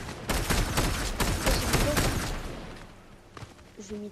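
Rapid bursts of gunfire from a Fortnite match, loud and dense in the first half, then thinning to a few scattered shots, mixed with game noise while players talk over it.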